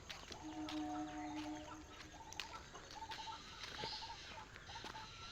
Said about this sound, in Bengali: পাখি এটা কী পাখির আওয়াজ আমি জানি না